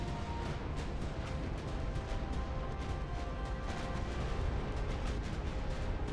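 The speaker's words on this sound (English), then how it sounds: "I hear a lot of explosions happening" Dense, continuous rumble of booming blasts and crackling impacts, a steady barrage of naval battle explosions in the game Ultimate Admiral: Dreadnoughts, with no pauses and no talking.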